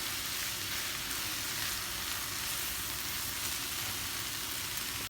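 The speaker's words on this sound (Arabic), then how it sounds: "بقلبهم مع بعض وراح اغطيها لحد ما تستوي معي اللحمة والبصل" Minced meat and onions sizzle and fry steadily in a pan while being stirred, a dense, continuous close crackle that holds at an even level throughout, with no voices.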